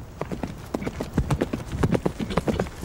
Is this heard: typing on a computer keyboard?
no